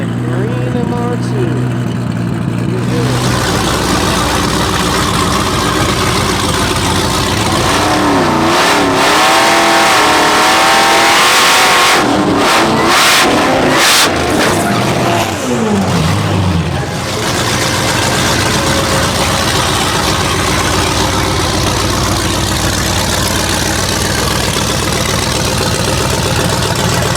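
Several cars rev and accelerate at a drag racing event, including a green Supra, a green MR2 and a Camaro, the engine roar loud and continuous, surging hard mid-clip over crowd and background noise.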